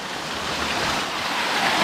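Steady rushing water pouring straight through the overflow of a pair of water tanks that feed a hut, a continuous broadband wash that holds level and loud from start to end with no voices.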